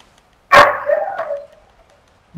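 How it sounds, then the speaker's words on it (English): A dog lets out a single sharp bark trailing into a brief yelping whine, fairly loud and close, set against near silence, with no talking. "Dog is barking"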